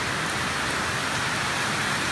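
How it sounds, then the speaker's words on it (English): Heavy rain pours down during a storm on a hay farm, a loud, dense, unbroken roar of drops with no voices. "So yeah, it's really raining."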